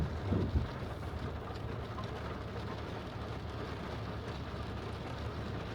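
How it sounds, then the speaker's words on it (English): Heavy rain heard from inside a car driving in Riyadh, a steady low rumbling wash of rain and road noise with faint patter on the body, constant and even throughout. "What a wonderful rainy day we have here."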